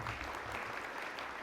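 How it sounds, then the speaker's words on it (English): Conference audience applauding an insurance executive at an industry event, a brief, faint burst of clapping at a distance. "Give him a round of applause."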